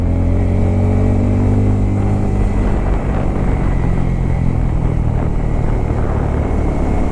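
A Bajaj Pulsar N250 motorcycle roars steadily while being ridden in second gear on a hill road, a loud close continuous engine drone with no talk.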